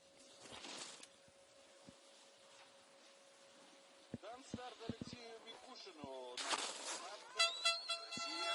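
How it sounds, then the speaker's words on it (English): A spectator's air horn sounds at a para alpine ski race, a loud, buzzy blast rising near the end over commentary and crowd noise. "There's that air horn."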